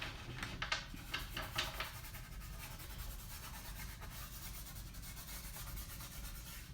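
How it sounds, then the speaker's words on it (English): A fingertip rubs chalk into a vinyl surface, producing a soft, continuous scratchy friction close by, with a few brisker strokes at the start before settling into steady rubbing. "now I'm just gonna take my finger and I'm gonna rub that in"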